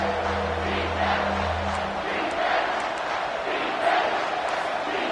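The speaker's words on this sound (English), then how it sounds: "This crowd is tearing the lid off this place." A packed football stadium crowd roars loudly and continuously at a college game against Missouri, a dense sustained wall of cheering that swells in places, with a low steady drone underneath for the first couple of seconds.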